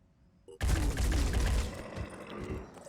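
Squad gunfire in the Phoenix Point video game, a sudden loud burst of rapid shots that starts abruptly after a quiet moment and rattles on for about two seconds.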